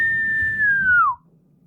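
A single clear whistle holds one steady pitch for about a second, then slides downward and cuts off, heard over a low background murmur.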